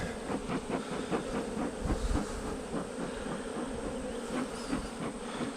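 A swarm of honeybees just shaken into a hive box buzzes in a dense, continuous drone, close and loud and agitated throughout, with no voices.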